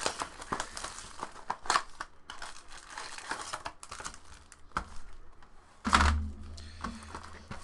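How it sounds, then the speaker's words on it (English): Typing on a computer keyboard at a sports card box break, irregular soft clicks and clacks mixed with crinkling noises, fairly quiet and close, with one louder knock near the end. "Hitting that keyboard."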